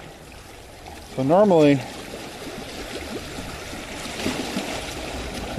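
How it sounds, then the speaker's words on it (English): Water sloshs and trickles softly around the pipes of the Wave Organ on the San Francisco Marina shoreline. The gentle, uneven washing swells slightly later on, and someone speaks briefly early in the clip. "And you can kind of hear the water sloshing around a little bit"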